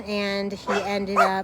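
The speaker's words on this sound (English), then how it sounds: "sorry about the dogs." Dogs barking and whimpering outdoors, short yelps and a bark rising over a person talking nearby.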